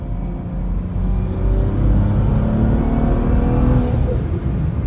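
A BMW N55 turbo sleeper car accelerating at highway speed to pass, a loud sustained engine drone and rising rumble heard from inside the cabin, steady throughout without talk.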